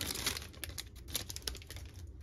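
A Topps Chrome card pack wrapper is torn and crinkled open in quiet, close bursts of crackly foil rustling with brief pauses between handlings.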